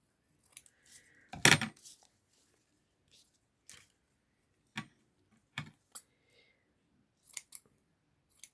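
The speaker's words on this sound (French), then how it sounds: "Alors, on va couper là comme ça." Scissors snipping paper at a craft table: a handful of sharp, separate cuts spread unevenly over the stretch, one louder close snip near the start and softer clicks after, against quiet.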